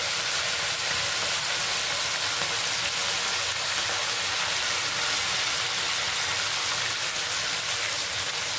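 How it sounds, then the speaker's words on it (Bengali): Chicken pieces fry in a kadai for chicken biryani, giving a steady, even sizzle of hot oil that continues unbroken for the whole stretch, close and moderately loud with no voices. "মাংসটা ভাজা হচ্ছে আমাদের। মাংসটা খুব সুন্দর করে ভেজে নিতে হবে"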